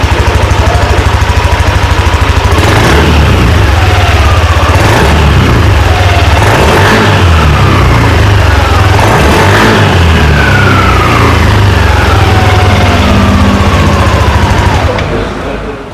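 Yamaha NVX 155 scooter engine revved repeatedly from idle, several loud rising throttle bursts over a steady close running engine, settling and fading at the end.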